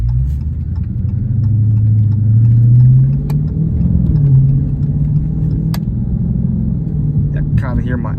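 A Dodge SRT with worn motor mounts cruises at night in Dallas, its engine a loud, steady low drone that swells briefly as it pulls, heard from inside the car.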